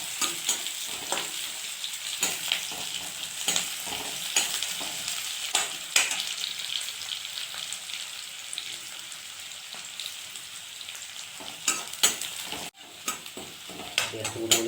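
Onions browning in a pan sizzle loudly and steadily as they are stirred, with frequent scraping strokes and light clatter throughout.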